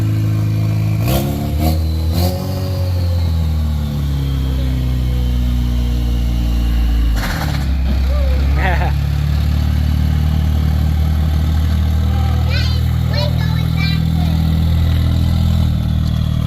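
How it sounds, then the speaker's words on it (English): The engine of a Cessna light aircraft with the muffler removed runs loud and rough in a steady low drone, rising in several revving surges that sweep up and fall back. "the muffler's still off, so she still sounds tough"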